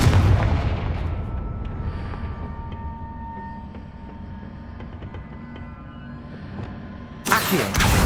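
Confringo fire spell explosions in Hogwarts Legacy: a dense, rumbling blast opens, trailing into a long low churning roar, then another sharp, bright burst hits near the end, all without voices.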